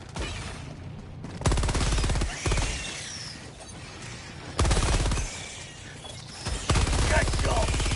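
Automatic machine gun fire in the sci-fi shooter Helldivers 2, loud sustained bursts of rapid rounds repeating in three or four long strings with short gaps between them, no talking.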